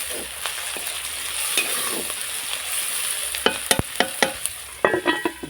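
Chopped onions and tomato fry in a pan, with a steady sizzle under repeated scraping stirs that grow sharper and more frequent toward the end.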